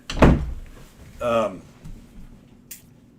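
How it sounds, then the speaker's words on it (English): A bathroom door thumps shut with one sharp close knock, followed by someone speaking and a faint later click. "So, shut the bathroom door back."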